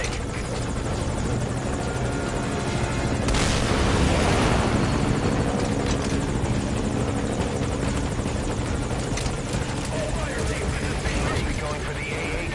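A helicopter in the video game Metal Gear Solid V: Ground Zeroes makes a loud, steady rotor roar with a whooshing swell throughout, while voices talk over it.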